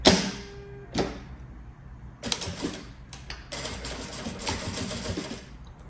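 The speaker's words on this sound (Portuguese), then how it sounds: "Agora eu vou costurar aqui esse cordão, que é bem fininho." A sewing machine stitches a thin cord onto a handmade luxury backpack, running in bursts of rapid mechanical clatter separated by short pauses, close and fairly loud.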